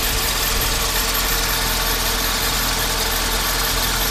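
A Mercedes SL500 R129 V8 sits at a steady idle, its air pump adding a loud whirring hum over the engine's constant drone, close and unbroken with no talking.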